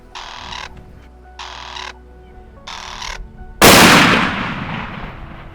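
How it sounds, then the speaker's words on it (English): A single loud, close gunshot from a double-barrel rifle on safari cracks out and rings into a long decaying tail, preceded by three repeated mechanical or bird-like calls. "I'm going to shoot the other barrel without adjusting it"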